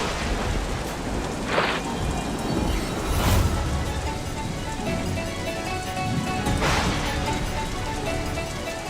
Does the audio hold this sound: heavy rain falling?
yes